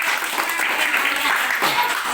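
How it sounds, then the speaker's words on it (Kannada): Children at a government school Children's Day celebration in Keerthinagar, Malavalli, clap together in a short burst of applause while someone talks over it. "ಒಳ್ಳೆ ಚಪ್ಪಾಳೆ."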